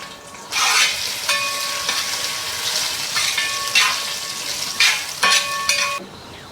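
Tender coconut pieces and raisins fry in a pan for a mango tender coconut payasam, giving a loud, steady crackling sizzle that swells in several bursts over a faint tonal background.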